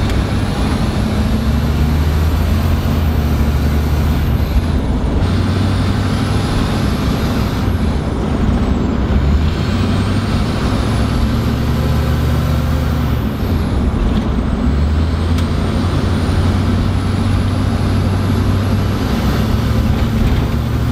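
A straight-piped school bus with a 6.0 engine runs loud and close, its exhaust droning low while a high turbo spool whistle rises and falls in repeated sweeps, with no talking.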